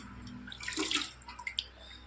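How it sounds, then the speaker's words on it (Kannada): Water pours and splashes into an air cooler's tank close by for about a second, followed by a few scattered drips. "ಕೂಲರ್ಕ ನೀರೆಲ್ಲ ಖಾಲಿಯಾಗಿಬಿಟ್ಟಿದ್ದು ಅದಕ್ಕೆ ಇದಕ್ಕೆ ನೀರು ಹಾಕತ್ತಿದ್ನಿ"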